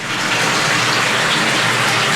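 Water runs steadily from a newly installed tap in a desert setting, a continuous, loud, broadband rushing gush that holds even throughout with no voices over it.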